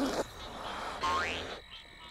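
Air squeezed slowly out of a stretched balloon mouth makes squeaky, rising squeals and rasping bursts that imitate a frog's croak. Two main bursts sound close, with quieter gaps.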